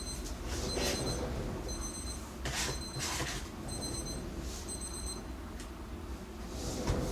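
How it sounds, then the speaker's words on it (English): An electronic alarm beeps in short repeated bursts of high tones over a steady low rumble, sounding several times in a row. "Some strange alarm going off."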